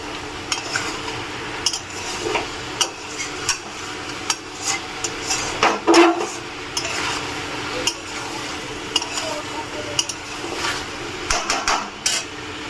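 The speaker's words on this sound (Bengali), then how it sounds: "এটাকে কষাতে হবে যাতে মশলা না পুড়ে যায় ধীরে ধীরে এটাকে কষিয়ে নিতে হবে" Dhaba-style spiced chicken masala is stirred and sautéed slowly in a pan, with scattered spoon scrapes and clinks against the metal over a faint, low sizzle and no talking.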